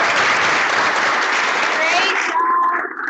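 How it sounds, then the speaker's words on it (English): Loud, dense round of applause from an audience at an office partner meeting, sustained clapping that fades out near the end as a voice begins speaking. "let's give her one more round of applause."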